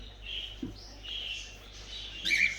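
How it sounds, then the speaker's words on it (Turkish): Budgerigars in a pet shop give a few faint, high chirps and tweets over a quiet background hum, with a slightly stronger burst of chirping at the end. "burada da tek muhabbet kuşları"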